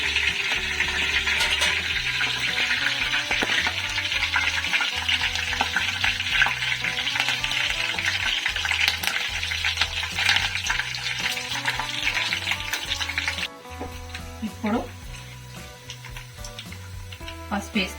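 Garlic and curry leaves sizzle in hot oil, a loud, steady frying hiss with stirring clinks, fading slightly near the end, with soft background music underneath.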